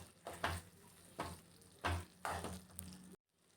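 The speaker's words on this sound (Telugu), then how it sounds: "గోంగూర మెత్త బాగా కలిసిపోయేలాగా మొత్తం కలుపుకోవాలి" Gongura paste being stirred into a chana dal curry, a series of about four close scraping, sloshing strokes in a pot, each a short thick burst, with a quiet pause at the end.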